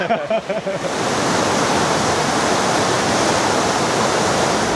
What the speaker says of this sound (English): these rapids right here look pretty wild